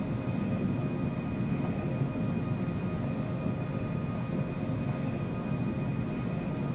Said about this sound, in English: Reverser's coming out.